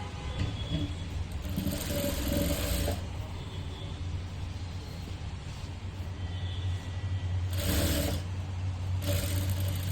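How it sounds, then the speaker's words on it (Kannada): Sewing machine running in steady bursts while stitching the side seam of a blouse, a close mechanical whir with pauses between runs and a continuous low hum beneath. "ಇಷ್ಟಕ್ಕೆ ಸ್ಟಿಚ್ಚನ್ನು ಹಾಕೊಂಬಂದ್ಬಿಡ್ತೀವಿ"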